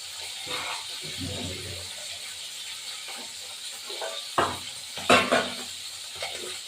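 Oil sizzles and hisses softly as tilapia fries, broken by a few clattering scrapes of a utensil in the pan.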